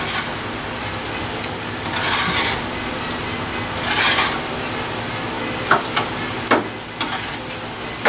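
A scraper rasps and scrubs against sludge under a vehicle, with repeated gritty bursts of scraping and a few sharp metallic knocks and taps, close and fairly loud.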